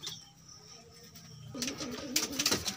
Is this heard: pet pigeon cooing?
yes